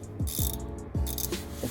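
A 15 mm socket wrench ratchets on a car's oil drain plug, giving a few quick clicking bursts close by with short pauses between them.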